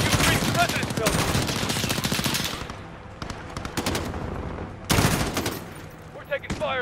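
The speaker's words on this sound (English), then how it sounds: "We're taking fire from the residence." Sustained rapid gunfire and explosions during an embassy mission in Call of Duty: Modern Warfare, loud bursts that pause briefly and then resume, with game voices calling out amid the shooting.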